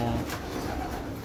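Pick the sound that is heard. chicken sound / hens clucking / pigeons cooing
pigeons cooing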